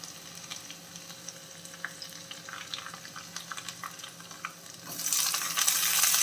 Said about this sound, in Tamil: பூண்டு வந்து நல்ல கலர் மாதிரி வதங்கி வரணும்.